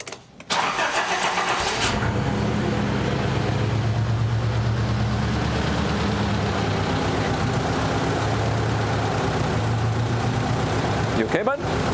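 A Nissan 200SX engine catches with a brief starting burst, then settles into a steady, close idle rumble that holds evenly to the end, with voices faintly present.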